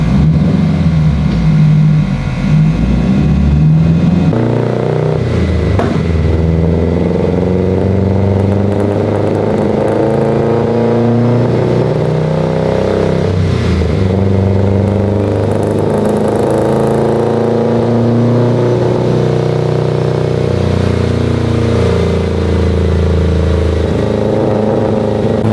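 A fully built Subaru STI runs on a dyno, its engine roaring loud and close with rising and falling harmonic tones through sustained revving pulls.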